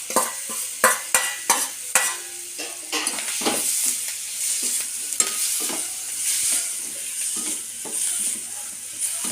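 Mussel meat stirred and fried in a pan, sharp scraping and clattering strokes of a utensil at a quick irregular rhythm over a steady sizzle, close up.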